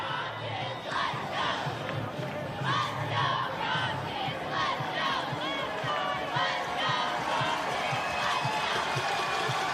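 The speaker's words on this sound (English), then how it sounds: "the crowd here on the near side will come to its feet on 4th down and 6" Stadium crowd at an IHSA Class 4A high school football state final, Rochester against St. Laurence, roaring and yelling on 4th down, a dense sustained wall of cheering and shouting throughout.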